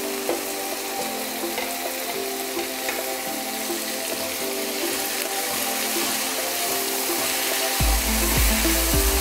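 Tomatoes frying in oil in a pan over softened onions, a steady close crackling sizzle with a few stirring scrapes and a louder burst of sizzle toward the end.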